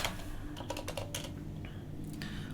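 Fingers type on a computer keyboard in quick, irregular bursts of close key clicks, with short pauses between runs.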